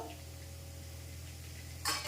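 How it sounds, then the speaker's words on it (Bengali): Garlic fries in oil over a low gas flame for masala Maggi, giving a steady, soft sizzle with a low hum beneath and a brief louder clatter right at the end. "রসুনটা বেশ ভাজা ভাজা হয়ে গেছে"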